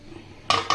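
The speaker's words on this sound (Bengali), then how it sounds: "এই পর্যায়ে আমি ঢাকনা দিয়ে ঢেকে দিব" A metal lid set onto a cooking pot of bottle gourd and prawns, two quick clanking contacts close by after a quiet moment, short and bright.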